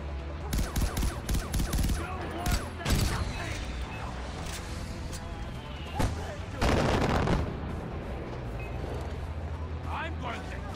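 Gunfire in Far Cry 4: scattered single shots and short bursts, some close and loud, one heavier volley in the middle and fainter shots toward the end, with occasional distant reports.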